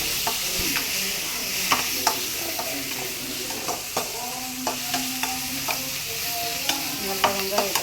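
Onions sautéing with ginger-garlic paste in a pan give a steady, close sizzle, broken by soft, irregular scrapes and taps of stirring throughout, with no voices.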